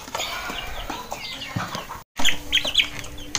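A chicken suffering from a cold gives short, scratchy clucks in close range, a few spaced calls with a brief silent gap midway, over light background noise.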